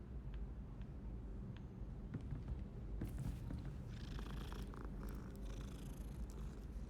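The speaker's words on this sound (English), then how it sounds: "I hear a cat somewhere?" A cat purrs steadily in a Harry Potter-style video game set in a dungeon, a soft continuous rumble under faint game ambience.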